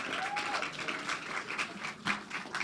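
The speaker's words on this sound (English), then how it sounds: "Please give him a round of applause as he comes forward." An audience at the grand finale of a growth-focused event gives a round of applause for a speaker coming forward, a moderate, steady spatter of clapping heard from a distance that continues throughout without pause.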